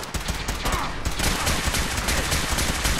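Rapid gunfire in the video game Fallout 4, a dense, loud burst of repeated shots and impacts that runs almost continuously through the clip with no talking.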